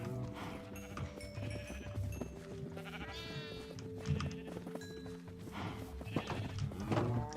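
Sheep bleating in a video game, several calls at moderate distance mixed with hoof clip-clops and a horse whinny over a steady game music backdrop.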